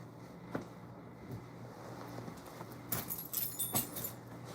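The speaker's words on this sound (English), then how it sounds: "Someone in the room was needing a key." Keys jangle faintly in a room, a few soft metallic rattles and clinks toward the end against a quiet background hum.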